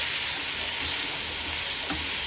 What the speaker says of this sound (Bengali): চিংড়িটাকে এখন একটু ভাজা ভাজা করে